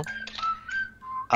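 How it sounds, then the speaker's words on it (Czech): A mobile phone gives off a sustained whistling tone that steps between pitches over about a second, heard during a studio interview with speech fragments around it. "Tady něco píská. To byl můj mobil."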